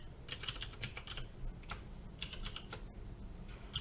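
Quick bursts of typing on a computer keyboard while coding Arduino code, crisp close key clicks in uneven clusters with short pauses, no speech.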